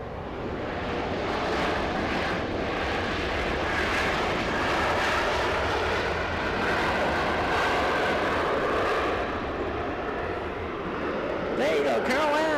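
A Delta Air Lines Airbus A321 jet comes in to land at Los Angeles, a sustained mid-distance engine roar that swells and holds, with a person talking intermittently over it.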